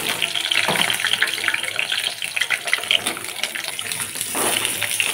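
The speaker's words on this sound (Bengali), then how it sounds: "আলুটা ভেজে নেব।" Potatoes fry in oil for a mutton curry, giving a steady loud sizzle and crackle that runs throughout.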